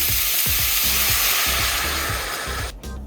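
Adobo sauce is poured over browned pork in a hot pan, setting off a loud, close, continuous sizzle with rhythmic stirring scrapes underneath, before the hiss briefly drops away at the end.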